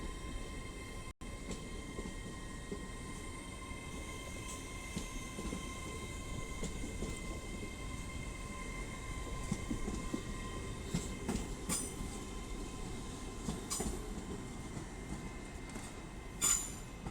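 An LNER passenger train bound for Harrogate pulls out of Doncaster station, a steady rolling rumble with wheel squeal and scattered rail clicks, heard fairly distant and even throughout with no talk.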